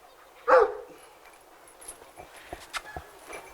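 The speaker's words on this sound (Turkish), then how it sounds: "Evet burada da bir köpeğimiz var." A single sharp bark from an Anatolian shepherd dog rings out nearby in a village, followed by quieter scattered clicks and faint whimpering noises.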